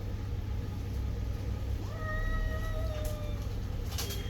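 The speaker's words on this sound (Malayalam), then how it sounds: "ഒരു വലിയ കണ്ടം പൂച്ച, ഒരു വലിയ കണ്ടം പൂച്ച" A wild jungle cat gives one drawn-out, rising then falling meow midway, heard over a steady low background rumble. Nobody talks.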